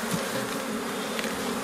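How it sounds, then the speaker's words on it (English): Honey bees buzz in a dense, steady drone close by while a hive frame is lifted out during requeening, with no voices. "knock a few bees off"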